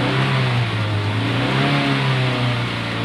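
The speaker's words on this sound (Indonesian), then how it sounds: "kondisi baik itu setelah kita tahan di putaran 3500 RPM, RPM-nya masih bisa naik pada saat kita akselerasi" Petrol car engine held near 3500 RPM and then revved under acceleration, a steady mid-pitched drone that climbs and surges, close and loud with no talk over it.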